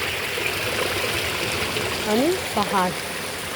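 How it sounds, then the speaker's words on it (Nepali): Water spilling down a small stream after running underground, a steady close trickle and splash under short bursts of talk. "त्यहाँ पानी झरिरहेको छ अन्डरग्राउन्ड हुँदै"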